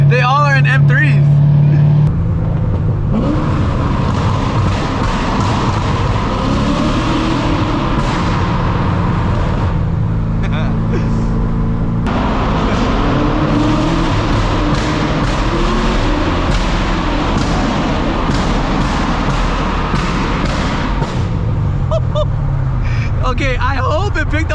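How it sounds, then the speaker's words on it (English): A cammed Corvette Z06 idles and revs nearby, its deep burbling exhaust punctuated by sharp pops and thumps, with people talking over the engine noise. "I hope it picked up on camera how loud those pops were."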